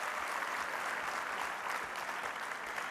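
An awards banquet audience claps continuously in a dense, steady patter that fills the room at even loudness from start to finish.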